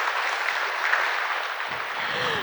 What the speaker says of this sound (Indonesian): Boleh kita berikan aplaus yang meriah Bapak Ibu sekalian?